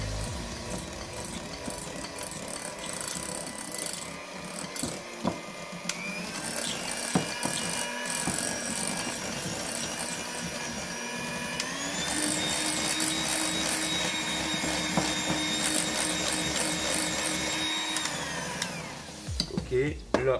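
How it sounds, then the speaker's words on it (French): An electric mixer whirs at low speed through tiramisu cream, a steady motor drone with shifting pitch and a rattling beater, close and continuous for most of the stretch before stopping, with some talk at the start. "Et on veut mélanger à petite vitesse pour éviter d'en mettre partout."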